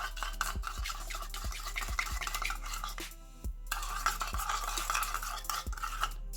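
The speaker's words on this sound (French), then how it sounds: "Je mélange." Spoon stirring a runny homemade slime mix of salt and baking soda in a bowl, soft scraping and clinking strokes in an irregular rhythm, close and fairly quiet, with a brief pause midway.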